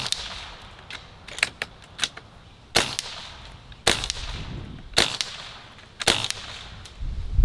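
A .22 caliber air rifle fires 21.9 grain pellets, giving a series of sharp, close cracks spaced a second or so apart, with quieter clicks and handling noises between shots.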